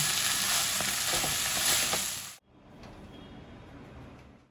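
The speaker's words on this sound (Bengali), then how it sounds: "চিকেনটাকে এবার একটু ভেজে নেব।" Chicken frying in a pan for momo stuffing, a loud, dense sizzle with stirring scrapes that cuts off abruptly midway, followed by a much quieter lingering hiss.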